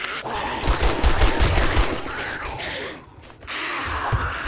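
Rapid automatic gunfire from a machine gun during a horde night defense in 7 Days to Die, loud bursts rattling for most of the stretch, dropping off briefly before resuming.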